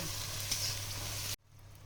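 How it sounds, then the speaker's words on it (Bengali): Garlic and green chilies frying in a pan hiss in a steady, close sizzle that cuts off abruptly after little over a second, leaving near silence. "এবার আমি রসুনটাকে একটু ভালো করে ভেজে নেব"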